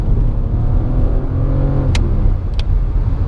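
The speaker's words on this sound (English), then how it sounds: "So change it down to second." Inside a Suzuki Swift with an automatic gearbox in manual mode, the engine drones loudly and steadily during a downshift to second, with a couple of brief clicks partway through.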